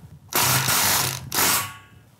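Close, loud ratcheting in two bursts as a ratchet tightens a masonry fastener through the aluminum mainframe of a PGT 770/670 sliding glass door into concrete.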